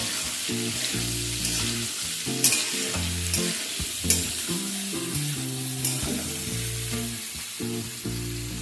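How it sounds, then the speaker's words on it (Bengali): Potatoes and ridge gourd are stir-fried in a pan, with a steady sizzle and repeated scraping and stirring clatters in an uneven rhythm, close and continuous. "এবার আলু আর ঝিঙেটাকে একসাথে কিছুক্ষণ একটুখানি নাড়াচাড়া করে ভেজে নেব"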